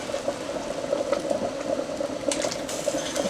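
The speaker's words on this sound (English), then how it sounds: "The water has come to a boil." Salted water for cooking malanga roots bubbles at a rolling boil in a pot, a steady close churn of bubbling with no talk.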